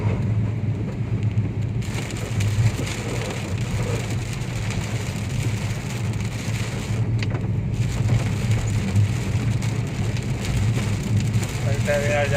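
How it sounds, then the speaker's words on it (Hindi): Heavy rain beats steadily on a car while driving along a waterlogged road toward Greater Noida in June, a dense continuous wash of noise with low engine and road rumble underneath, and some voice faintly present. "हालांकि मौसम अच्छा दिखाई दे रहा है, पर बारिश तेज है।"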